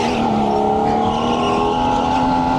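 A supercharged go-kart engine screams at high revs through a qualifying lap, a loud, steady drone with tires squealing underneath.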